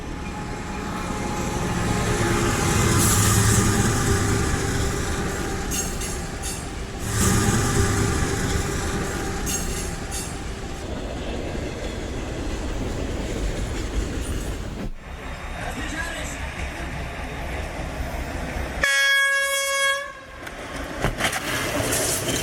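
A train rumbles and clatters along the tracks as it approaches, growing loud and steady, then a clear horn blast rings out near the end.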